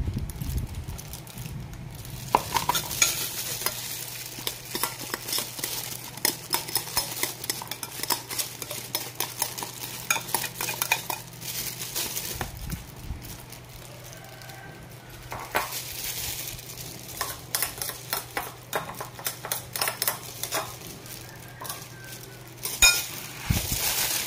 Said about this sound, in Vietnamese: Rồi em trộn nó lên. Trộn lên cho đều